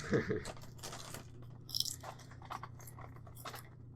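Jalapeno chips crunched close to the mic in a series of sharp, irregular bites and chews over a steady low hum, with people talking in the background.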